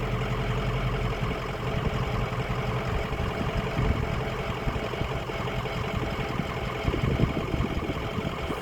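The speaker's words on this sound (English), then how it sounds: "It's a loud diesel." A loud diesel truck engine drones steadily and close while the truck coasts slightly downhill, a continuous low rumble with a fine mechanical clatter and no voices.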